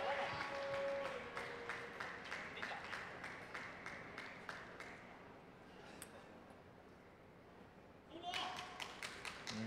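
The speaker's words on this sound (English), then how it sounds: "There goes the clapping again." Spectators clap in bursts around a table tennis match, a Men's Team Class 9/10 gold medal match between China and Spain, sharp repeated claps over a busy hall with commentary-like voices, fading mid-way then rising again near the end.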